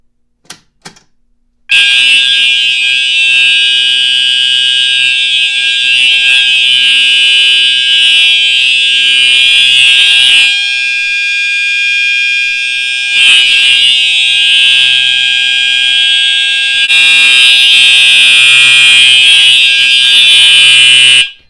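A building fire alarm system under test sounds its steady signal, likely through a dual-action hammer bell, ringing loud and continuously for about twenty seconds with a couple of brief dips, and no voices.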